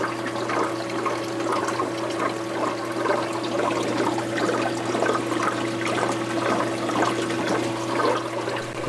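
Water drains steadily from an algae scrubber through an extension pipe into an aquarium sump, making a continuous close gurgle and splash with a low pump hum underneath and no talking.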